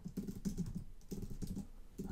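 Fast keystrokes on a computer keyboard while writing code, clattering in quick bursts with a brief pause in the middle, close and moderately quiet, no talking.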